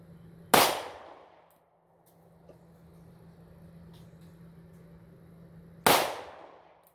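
Two sharp, loud shots from a Springfield Hellcat pistol fitted with a Sig Romeo sight at an outdoor target range, spaced about five seconds apart, each with a quick decaying echo over low background hum.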